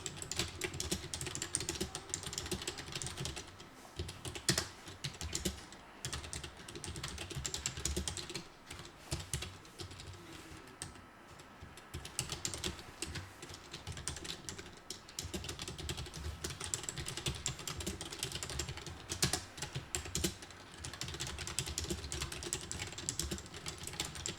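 A computer keyboard is typed on steadily at close range, producing dense, continuous clicking keystrokes with brief pauses and no talking.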